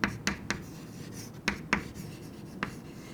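A lecturer writes on a board during a biology lesson: several short, scratchy strokes come in quick bursts with brief pauses between them, close and fairly quiet over faint room noise. No one speaks.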